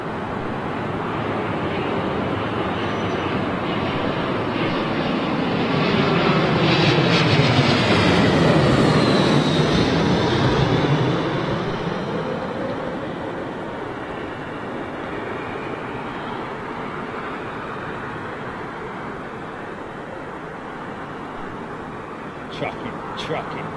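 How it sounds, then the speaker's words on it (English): A British European Airways retro-livery Airbus A319 lands at Heathrow, its broad jet roar rising to a loud peak midway and then fading, with a person talking over it. "It's one of the retro jets, folks. British European Airways, A319."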